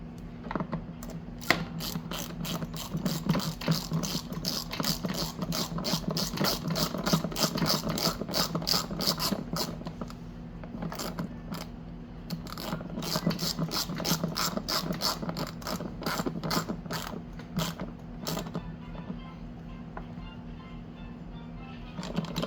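A ratchet clicks rapidly while turning a 6mm Allen bolt on a Yamaha Vino 125 scooter during a starter clutch job, bursts of sharp pawl ticks separated by short pauses, close and fairly quiet.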